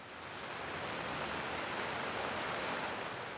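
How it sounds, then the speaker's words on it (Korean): Sudden heavy rain pours steadily under the eaves of an old hanok, a dense broadband hiss that swells in over the first half second and then holds loud and even, with no voices. "와, 갑자기 이렇게 비가 쏟아지네요"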